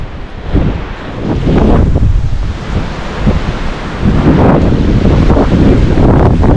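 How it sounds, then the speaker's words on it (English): Strong wind buffets a mountain meadow on Fork Ridge, roaring loudly and steadily into the microphone in gusts that swell and ease, with no voices heard. "I wasn't expecting to have this much wind exposure down here."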